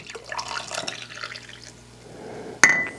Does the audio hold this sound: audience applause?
no